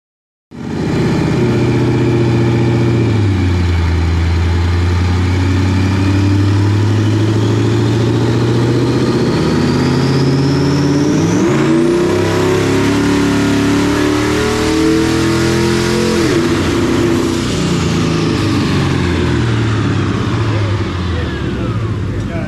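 A twin-turbo Ford Crown Victoria 4.6 2-valve V8 revving hard on a dyno, climbing steadily through a long sustained pull, loud and close, with pitch sweeps and a brief lift before rising again.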